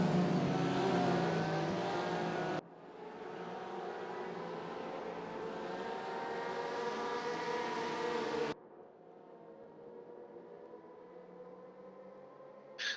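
Porsche 911 GT3R race cars from a racing video game scream down a straight with high, droning engine whine in several abrupt cuts, loud at first then quieter, with no talk over it.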